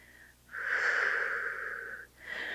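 A long, audible exhale through the mouth during a Pilates leg lift on a mat, a steady breathy rush lasting over a second, framed by quieter breaths before and after, close and soft with no talking.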